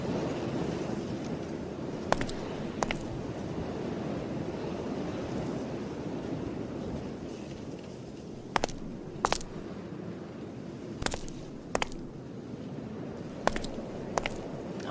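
A large pool of water blocks a garage passage in the adventure game Scratches Director's Cut. It gives off a steady, broad wash of lapping water and wind-like rush, with occasional sharp clicks cutting through the constant ambience.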